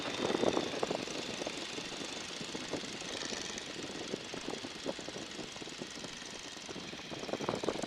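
Inside the open cockpit of a Boeing Stearman biplane in flight, the radial engine runs steadily at a reduced 1,300 RPM, a loud, continuous rumbling drone with wind noise.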